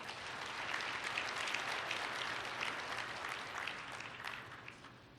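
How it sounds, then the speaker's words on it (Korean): An audience at the opening ceremony of a Korea-OECD international education conference claps steadily for representatives walking up to present, a dense, sustained round of applause that slowly fades toward the end. "여러분 큰 박수로 환영해 주시기 바랍니다."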